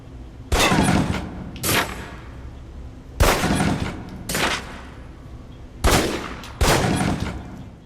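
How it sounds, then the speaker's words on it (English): Pistol shots at a target range in the video game Alpha Protocol ring out in sharp, loud bursts, six reports in three close pairs, each with a short echoing tail. "Equip the pistol, then aim down range, and take some shots at the target."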